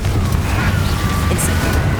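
A Confringo explosive spell blast in Hogwarts Legacy, a loud, booming burst with a rumbling low body that fills the moment, with faint whooshing and sparkling accents over it.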